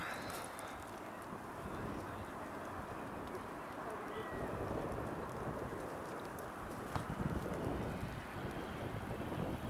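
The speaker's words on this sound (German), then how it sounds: "Ein übelster Wind heute, ey." Strong wind roars steadily across the microphone at an outdoor football match, a continuous loud rumbling buffet that fills the whole stretch with no clear voices.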